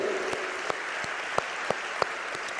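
A church congregation applauds in a steady wash of clapping, with a few sharper individual claps standing out at intervals, moderately quiet in a large room.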